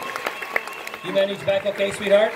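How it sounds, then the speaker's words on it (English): Audience applause at a 2018 comic convention panel, a short burst of clapping at the start that fades as a person begins talking close by. "Big round of applause before I forget for our signer for today."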